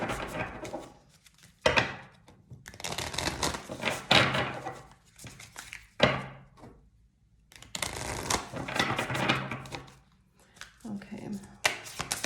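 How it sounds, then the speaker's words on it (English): Oracle cards are shuffled in repeated bursts of papery riffling and flicking, with short pauses between handfuls; close and moderately loud, no talking. "I'm going to pull my Divine Feminine here, an oracle card here."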